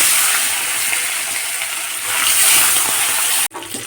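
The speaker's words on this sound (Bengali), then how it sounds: "এবারে আমি মাছগুলো ভেজে নেব।" Fish sizzling and spitting in a pan of hot white oil, a steady, loud hiss of frying that runs nearly unbroken and then cuts out sharply near the end.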